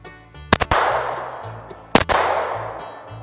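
Two sharp handgun shots from a .22LR or .25ACP pistol, each a loud crack followed by a long ringing echo, spaced about a second and a half apart, with no talking.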